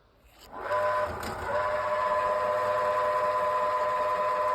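A grain winnowing machine powered by an electric motor on a single capacitor starts up with a rising whir and settles into a steady, loud mechanical hum with a constant tonal drone.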